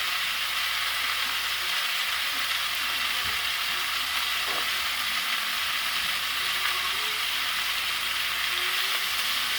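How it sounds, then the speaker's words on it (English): A steak sizzles and sears in a pan that is smoking hard, giving a steady close frying hiss that runs the whole time with no talking. "Make sure it's searing all the sides."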